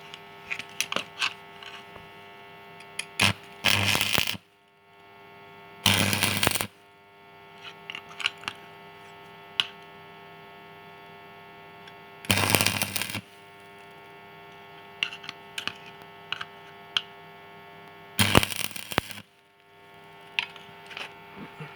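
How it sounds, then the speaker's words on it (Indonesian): Welding on a Honda Supra 100 cc motorcycle part, several loud buzzing arc bursts of a second or so each, separated by quieter stretches with a low electrical hum and small clicks. "Nggak usah dibuka, langsung las."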